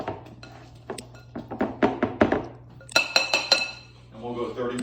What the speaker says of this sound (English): I'm gonna add a bit more of my chocolate in there. And stir it in.